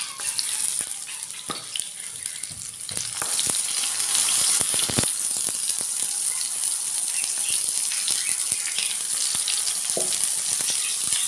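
Brinjal slices frying in coconut oil in a pan, a steady close sizzle and crackle that rises slightly in intensity partway through, with a few sharper pops and clatters and no talking.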